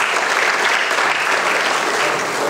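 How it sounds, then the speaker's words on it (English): A crowd at a Ghanaian graduate students' association event at KNUST gives a round of applause, dense, even and loud clapping that fills the room without pause. "a round of applause"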